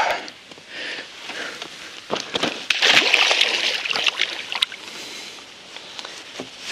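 A caught carp of about 3 kg is put back into the water, making a burst of splashing and sloshing close by that swells in the middle and then settles into trickling water, with no talking.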